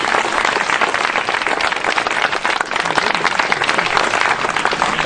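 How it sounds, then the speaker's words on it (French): A church congregation applauds and cheers for Jesus Christ, dense and loud, with sustained clapping filling the hall without a break. "Est-ce qu'on peut acclamer Jésus-Christ?"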